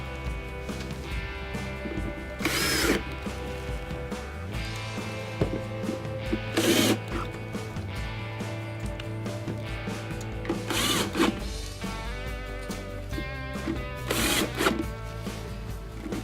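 A power drill whirs in several short bursts, about four, while driving screws into a Maytag refrigerator's control assembly cover, fairly close with quiet workshop gaps between runs.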